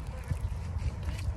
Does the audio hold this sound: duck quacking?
yes